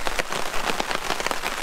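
A steady drizzle of rain patters continuously on a tarp at a wilderness campsite, a dense, even hiss of drops close by with no voices.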